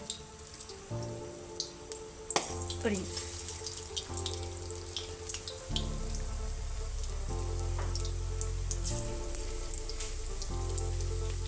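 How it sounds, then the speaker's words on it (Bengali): Cabbage pakoras dropped into hot oil and frying, a steady hissing crackle that builds and holds loud with small pops and clinks of utensils, no voices. "এরকম পকোড়ি মতো করে তেলে দিয়ে দেবো"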